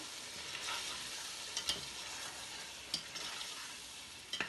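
Whole spices such as bay leaf, black pepper, cardamom and cloves frying in oil for Sindhi biryani, a faint steady hiss with a few sharp spoon scrapes as they are stirred.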